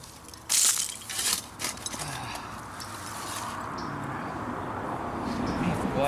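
Broken glass bottles clink and crunch as dirt is shoveled in an old dump holding bottles from around 1900, with a cluster of sharp clinks early on and then a steady scraping, rustling background.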